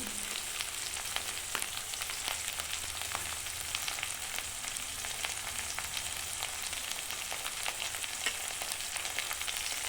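Green chillies and curry leaves frying and being sautéed in hot oil for a brinjal dish, a constant bright crackling sizzle close up, with no talking.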